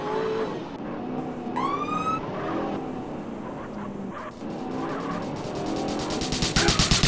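Car driving in the Argonath RPG video game, with engine drone, a tire screech, a rising synthetic siren-like sweep and rapid clicking toward the end, moderately loud and busy.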